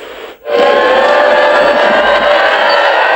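A crowd of thousands at a papal Mass in Papua New Guinea sends up a loud, sustained roar of cheering and shrill whistling that swells suddenly after a brief lull and holds steady throughout.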